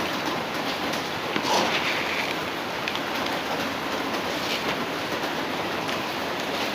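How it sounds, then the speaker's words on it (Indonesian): Steady morning rain falls in an even, dense hiss with faint scattered patters, continuous and moderately quiet throughout. "Pagi-pagi diguyur hujan"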